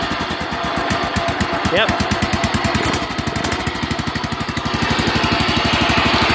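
A Kohler 12 hp small engine runs steadily after a carburetor change, its rapid even firing pulses loud and close throughout, with a brief spoken word over the running engine.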